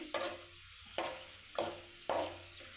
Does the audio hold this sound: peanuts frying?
yes